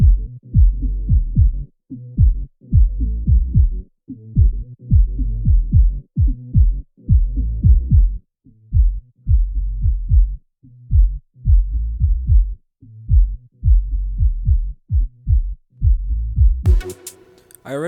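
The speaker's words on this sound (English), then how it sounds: "I'm going to solo the bottom end just to see what the kick drum and the bass sound like together" A kick drum and bass play together soloed in FL Studio for a glitch-hop intro, booming low pulses in a steady pumping rhythm, tight and loud. A brief bright burst comes in at the very end.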